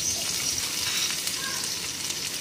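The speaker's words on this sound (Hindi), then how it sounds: "आलू को भी हमें तलना है" Potatoes fry in a pan for poha with a continuous, even sizzle. The hiss stays close and steady throughout, with faint clinks and no voices.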